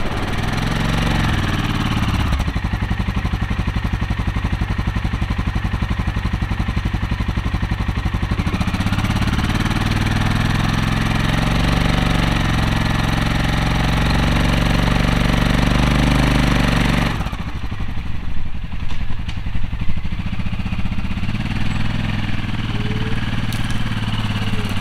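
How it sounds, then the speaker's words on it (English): A four-wheeler engine runs steadily while it powers a winch at a whitetail treestand site, a loud continuous drone with a rougher, clattering stretch near the middle. "Got the winch hooked up to the four-wheeler here."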